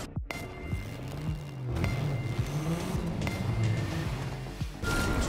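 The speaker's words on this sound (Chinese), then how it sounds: "我来换一下另外一台车玩玩看，来个 GTR 好了。" A GTR sports car races around a four-star Speed Fest circuit in the racing game Ace Racer. Its engine is a steady, loud drone with rising and falling revs as it shifts, and there are brief sharp transients along the way.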